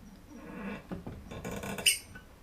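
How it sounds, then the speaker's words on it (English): A gas regulator being screwed onto a small CO2 cylinder for a simple beer keg tap setup gives a brief, high, thin squeak near the end, after faint rustling and handling sounds. "When we screw this in, you'll hear a little squeak, and then we'll have gas."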